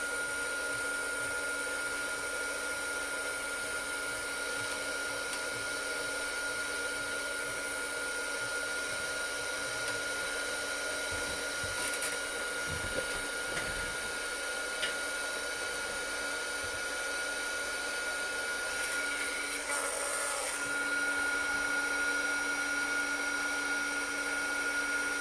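A heat gun melts embossing powder on a stamped craft piece, giving a steady, continuous blowing whir that holds at an even level throughout with no talking.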